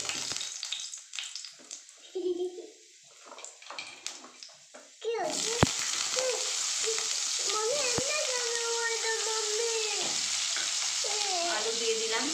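Potatoes hit hot oil in a kadai for a vegetarian pea and potato curry, setting off a sudden loud, sustained sizzle after quieter moments of stirring, with voices, including a child's, speaking over it.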